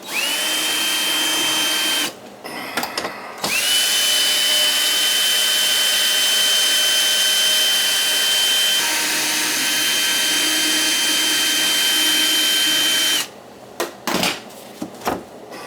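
Cordless power drill backs long screws out of a gas boiler casing, its high steady whine running for several seconds at a time. Three long runs are broken by short pauses with clicks and handling noise, all close by.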